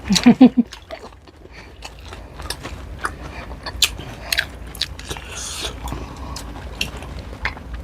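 Crispy fried pork knuckle being bitten and chewed close up, a few loud crunchy bites at the start, then steady wet chewing with scattered crackles.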